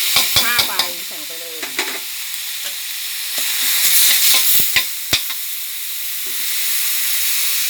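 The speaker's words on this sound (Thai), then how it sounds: "ตั้งกระทะเลยนะคะ พริกแกงค่ะหนึ่งขีดกระเทียมหนึ่งหัวใบมะกรูด" Red curry paste, garlic and kaffir lime leaves frying in a hot pan for a dry fish-kidney curry: a steady close sizzle with clinks of the spatula and stirring scrapes at the start.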